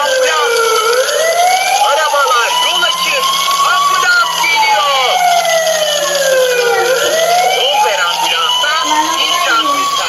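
A toy ambulance siren wails continuously and loudly in a rising and falling electronic sweep over steady hiss, with a voice speaking faintly underneath.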